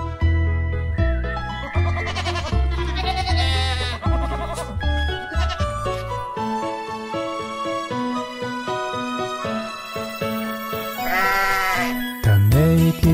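Sheep bleat in a children's nursery rhyme song about Little Bo Peep, repeated wavering bleats sung over cheerful musical accompaniment, loud and close, with a final bleat near the end.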